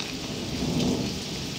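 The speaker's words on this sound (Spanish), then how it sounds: "Está lloviendo." Steady rain pours down with a low roll of thunder in a brief, quiet stretch with no talking.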